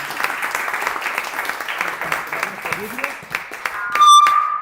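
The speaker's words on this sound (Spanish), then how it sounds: "Deseamos con un fuerte aplauso." Church congregation applauding after a Spanish-language sermon introduction, a steady round of clapping with a voice speaking over it, ending in a sharp burst of microphone feedback.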